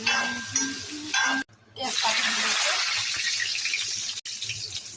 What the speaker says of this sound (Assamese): আধা সিজা বইল কৰা আলুটো ফাৰ্ষ্ট ফ্ৰাই কৰি লওঁ